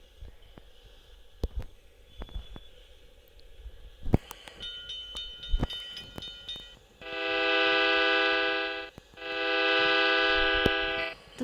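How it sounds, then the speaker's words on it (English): A passing train gives two long, loud horn blasts separated by a short gap, preceded by scattered clanks and thumps of rail cars rolling by. "Look at the train."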